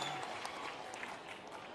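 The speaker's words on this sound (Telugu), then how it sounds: "గట్టిగా చప్పట్లు కొట్టి అభినందించండి" Broad, steady applause from a crowd at a public Praja Vedika event in Andhra Pradesh, quiet and distant, sustained through the short span without pauses.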